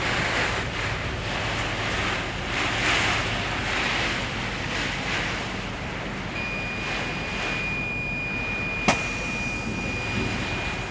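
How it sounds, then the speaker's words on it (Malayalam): Heavy rain and strong wind roar steadily at Arafat during a storm, a dense, continuous rushing wash with one brief sharp knock near the end and no talk. "അതിശക്തമായ കാറ്റും മഴയാണ്"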